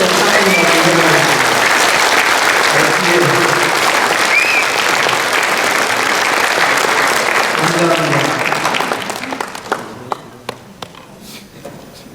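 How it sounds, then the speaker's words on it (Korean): A church congregation gives a sustained round of loud, dense applause that fills most of the stretch, then thins into scattered claps and fades out near the end. "그래도 박수는 한번 보내줘야 되지 않겠어요?"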